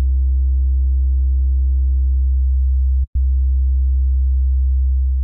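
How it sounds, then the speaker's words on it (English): A smooth, deep sine bass tone hums steadily, pausing for an instant before the same pure low note resumes and sustains. "I'll go for a very smooth bass tone, so I'll start with the sine wave"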